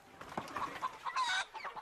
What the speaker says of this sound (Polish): Ja naprawdę nie wiem, skąd ta kura się tu wzięła.